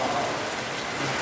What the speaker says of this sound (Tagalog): Hala, kusog ng ulan